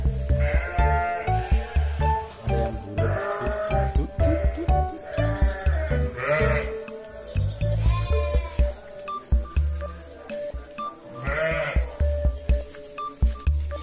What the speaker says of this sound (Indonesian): Sekarang kita coba lihat, ini ada beberapa ekor domba.